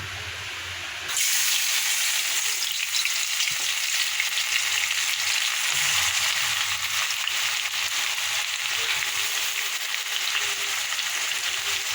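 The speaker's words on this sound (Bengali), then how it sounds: "এবার কড়াতে তেলটা দিয়েছি তেলটা গরম হয়ে গেছে এবার রসুনটা ছেড়ে দেবো" Garlic dropped into hot oil in a wok bursts into loud, continuous sizzling that holds steady after a brief quiet start, with faint stirring beneath.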